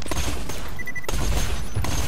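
Rapid bursts of gunfire from weapons in the video game Borderlands 2, dense and continuous across the clip with a brief lull in the middle, loud and close.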